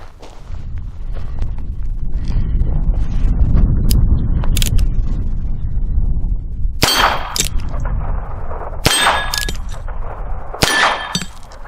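A Heritage Rough Rider Barkeep .22 revolver fires at steel targets outdoors, with several sharp shots each followed by a bright ringing clang, spaced a second or more apart over a steady low rumble of wind or handling noise.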